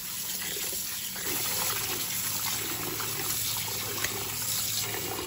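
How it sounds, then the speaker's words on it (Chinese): Pork stomach is rinsed clean under a running kitchen tap, a continuous close gush and splash of water with no speech. "我们再用清水将其冲洗干净就可以啦"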